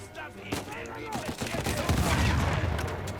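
A burst of gunfire from Uncharted 4 rattles out over roughly three seconds: sharp, loud shots in quick succession that thicken into a continuous volley toward the end.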